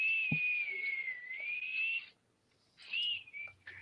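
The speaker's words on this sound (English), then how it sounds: "nobody wants to hear your fucking whistling" Someone whistles a wavering melodic tune, holding a long tone for two seconds, breaking into a brief silence, then resuming with a few shorter notes.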